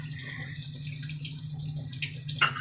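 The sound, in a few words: a little water poured into the cooking spices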